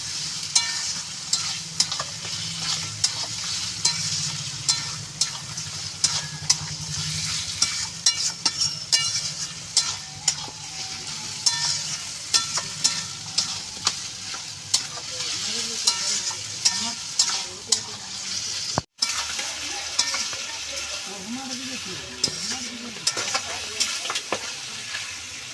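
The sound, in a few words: stirring mutton in frying spice masala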